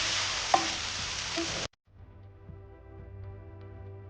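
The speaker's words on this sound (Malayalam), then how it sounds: "തക്കാളി നല്ലതായിട്ടൊന്ന് റോസ്റ്റായി കിട്ടുന്നവരെ നമുക്ക് ഡീപ്പായിട്ട് റോസ്റ്റ് ചെയ്യാം" Chopped tomatoes fry in a hot pan for a raw banana kofta curry, giving a loud, steady sizzle that cuts off abruptly and leaves a faint low hum behind.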